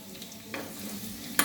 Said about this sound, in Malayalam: കടുക് നന്നായിട്ട് പൊട്ടിത്തുടങ്ങി